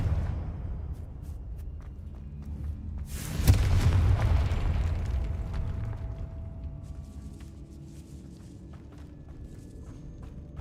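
A single heavy blast from the Confringo fire spell in Hogwarts Legacy booms out near the middle, a loud close burst whose rumbling tail fades slowly, with scattered footsteps and small game effects around it.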